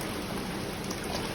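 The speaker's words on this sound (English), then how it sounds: "you drain the water from it" Water drains from the funnel of a MEPS mass spawner, a steady, quiet trickling and patter that runs evenly without pause and with no talking.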